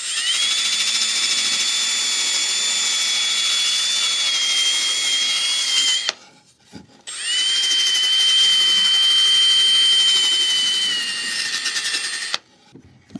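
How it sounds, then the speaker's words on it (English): A handheld drill fitted with a sanding attachment rounds over the edge of a wooden catch-all tray, a loud, steady high whine that runs about six seconds, stops briefly, then runs again for about six seconds. "I actually have these cool little sanding attachments for the drill I'm going to use for this."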